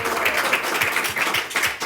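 A church congregation claps together during a service, a dense steady wash of many hands with a loose rhythmic pulse, fairly loud and close, with no talking over it.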